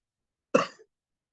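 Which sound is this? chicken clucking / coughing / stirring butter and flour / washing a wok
coughing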